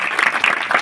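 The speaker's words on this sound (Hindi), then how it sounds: "एक बार जोरदार तालियों से" A loud, dense patter of audience clapping welcomes a former mayor at a wrestling event in Khandwa, heard in one short burst.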